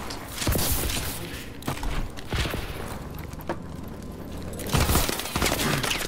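Rapid gunfire bursts from the Call of Duty Advanced Warfare multiplayer gun game mode, sharp repeated shots with mechanical clatter, loud and continuous.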